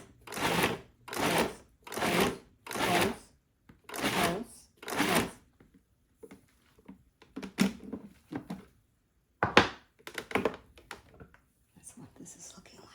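A kitchen appliance pulses raw cranberries in a row of short, loud, evenly spaced bursts, followed by quieter intermittent sounds with a voice speaking.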